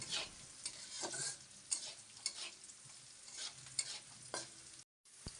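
Black cumin, white cumin, dried chilli, garlic and salt sizzle and crackle in a hot pan while being stirred, with scraping strokes over steady frying hiss, briefly cutting out near the end.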